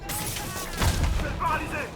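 Bursts of gunfire crack and boom in Marvel's Spider-Man video game, loud and close, mixed under a shouting in-game voice.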